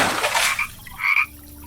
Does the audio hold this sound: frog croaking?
yes